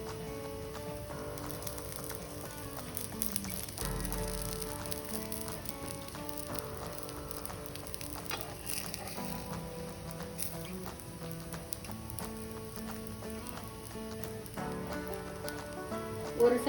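Adai batter cooking uncovered in a pan, a faint, steady crackling sizzle like light rain running continuously without talk.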